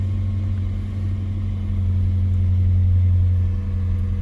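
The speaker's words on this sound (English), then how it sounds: "then you want to go ahead and start the car up here" A 2002-2005 Ford Thunderbird engine idles steadily just after starting, a close, even low hum that holds without revving and with no voices.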